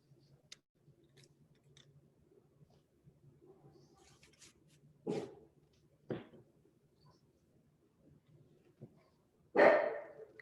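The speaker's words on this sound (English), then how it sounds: "stop barking" A dog barks in three short, separate bursts spread across a quiet indoor scene, with the last bark the loudest.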